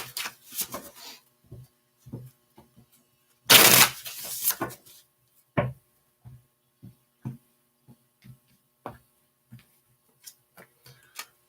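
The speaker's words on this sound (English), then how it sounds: "Two more shuffles." Tarot cards shuffled in short, sharp riffling bursts, one long loud riffle near the middle and scattered soft taps and flicks between, close and quiet with no talking.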